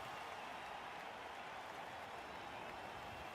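Steady crowd cheering from the fans in a Blood Bowl fantasy football video game, a continuous distant roar of applause-like noise with no distinct voices.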